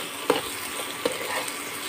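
Ginger garlic paste frying in a pan with a soft steady sizzle, broken by two sharp scrapes of stirring, close and on its own with no talk.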